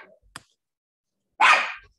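One short, sharp dog bark sounds once, fairly close and loud, in an otherwise quiet home with only faint knocks around it and no talking.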